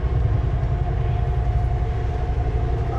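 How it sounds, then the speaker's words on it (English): A train in a large Canadian Pacific rail yard in Kansas City gives off a loud, steady low rumble. A faint tonal whine runs through it, with no breaks for the whole stretch. "Big train yard, Canadian Pacific,"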